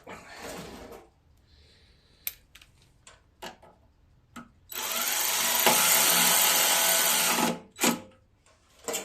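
Bolts are tightened on the carburetor of a Brig front-tine tiller. Clicks and taps give way to a few seconds of loud, continuous power-driver whirring, then sharp ticks follow.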